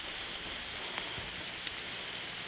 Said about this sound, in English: it was just a raindrop hitting the leaves